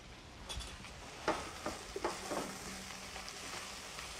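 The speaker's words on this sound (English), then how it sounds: "Let's give it a nice little stir." Butternut squash in a pan, stirred with a few soft scraping strokes over a faint, low sizzle, the light knocks and scrapes clustering in the middle and no one talking.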